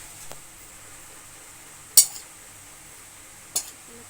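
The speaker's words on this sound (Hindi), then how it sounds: "इसको मिक्स करेंगे" A spoon mixes spices and mustard powder for a mixed vegetable pickle, with two crisp clinks of metal against a bowl amid near silence and a faint tap at the start.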